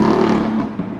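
Stock-exhaust BMW M4 F82 engine in city traffic, a brief, close, steady drone that dips slightly in the final moments.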